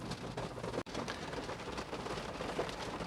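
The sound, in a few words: rain falling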